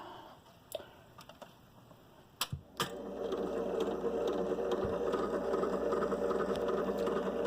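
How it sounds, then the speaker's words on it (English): A vintage Zenith record changer runs loudly after a few mechanical clicks and clunks as it engages, then settles into a steady mechanical whirr and rumble with no talking. "It's loud, but it is spinning at 33 RPM, or very close to it."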